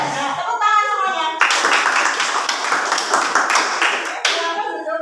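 Junior high school students clapping hands together in a classroom, a loud sustained burst of many hands with a teacher's voice before and after.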